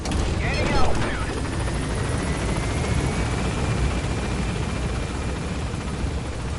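Helicopter in the Metal Gear video game climbing, a steady rotor roar filling the whole clip with a brief louder swell near the start and a thin rising whine above it.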